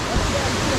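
A waterfall and a large, fast-flowing creek roar as loud, constant broadband rushing water, close and continuous, with slight wind buffeting on the microphone.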